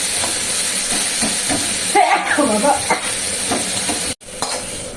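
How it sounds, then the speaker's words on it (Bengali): Bottle gourd greens and stems fry in a pan with a steady sizzle, while a utensil stirs and scrapes through them. A louder burst of crackling rises midway, and a short break comes near the end. "লাউ ডাটা বলো লাউ শাক বলো প্রচুর ভেজাল ভালো করে ভেজে নিই"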